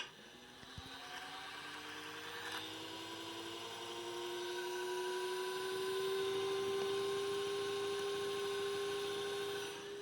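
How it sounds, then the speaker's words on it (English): A Timemore Sculptor 078 coffee grinder runs steadily and quietly nearby, a smooth low whir whose pitch slowly rises over several seconds before settling into a constant hum. "just to give you an idea of how quiet this grinder is"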